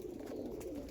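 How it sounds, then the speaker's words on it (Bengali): Andhra Lambadi breeding-pair pigeons in a loft give a soft, continuous low cooing, close and steady throughout a brief moment. "breeding pair লাম্বাডি Payra আন্ধ্রার"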